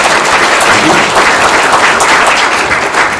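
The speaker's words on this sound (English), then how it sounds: "I think the applause started from somebody in pink" Audience applause at a stargazing event with the Philharmonic: continuous, loud clapping from a sizable crowd, dense and even throughout with no voices standing out.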